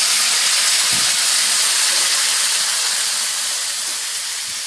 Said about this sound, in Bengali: এবারে কিন্তু আমি জল দিয়ে দেব